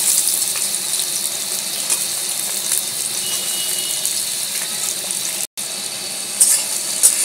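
Sliced onion fries in hot oil in a pan for a Bengali lotte fish dish, giving a steady, even sizzling hiss that carries through the whole stretch.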